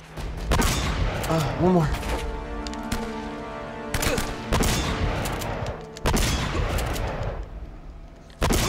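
Gunfire in Uncharted: Drake's Fortune, bursts of shots and sharp cracks in several clusters, loud and close, with someone talking between and over them.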